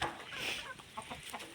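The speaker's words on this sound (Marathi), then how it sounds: "हा बघा आपला कोंबडा केवढा आहे, गावरान कोंबडा आहे" A big desi village rooster on a farm gives a short run of soft, fairly close clucks, a quick burst of throaty notes lasting under two seconds.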